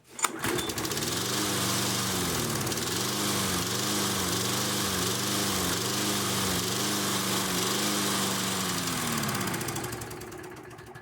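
Lawnmower engine with a suspected carburetor issue, kept running after repeated priming: a close, loud mechanical drone with a regular pulsing, surging rhythm that fades off at the end.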